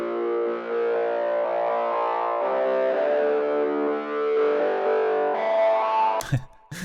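Distorted mid-range synth from a house production, saturated with diode drive, holds a thick, steady buzzing tone for several seconds alone, breaking off at the end into a short burst of noisy clicks.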